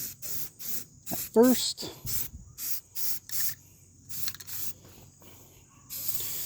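Rust-Oleum satin black enamel spray paint hisses from a can in a string of short, loud bursts with brief gaps between them, ending on a longer spray; someone speaks briefly partway through.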